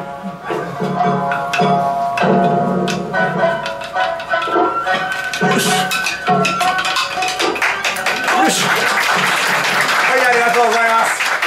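Audience applause at a daikagura performance, scattered clapping that thickens toward the end, mixed with voices, taps and stage sounds.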